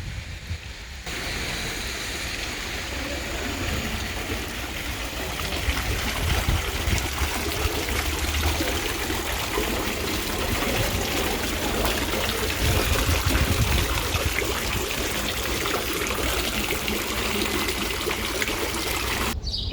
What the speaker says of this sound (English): Let's go relax by the water fountain for a little bit.